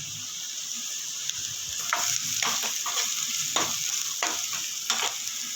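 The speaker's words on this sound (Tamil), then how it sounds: "ஆனியன் நல்லா வதங்கிடுச்சு கேரட்டு போட்டுக்கலாம்" Onions and carrots stir-frying in a pan for prawn fried rice give a steady close hiss of sizzling, broken by soft scraping strokes as the vegetables are stirred, with no voices.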